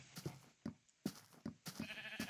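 A sheep in a video game bleats in a run of short, repeated calls at an even pace, quiet and close, with no talking.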